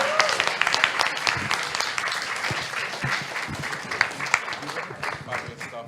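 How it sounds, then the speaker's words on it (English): An audience applauds at the close of a festival talk on accessible music technology, with sustained, fairly close clapping and a voice talking over it. "We have another round of applause, please."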